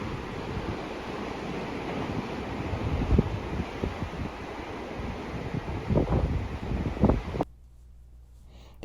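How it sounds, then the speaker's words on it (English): Ocean waves roll in hard at a beach in Kuroshio Town, Kochi, Japan, a close, continuous rushing surge with periodic crashing swells and wind buffeting, before the sound drops away abruptly near the end. "The waves were coming in pretty hard that day,"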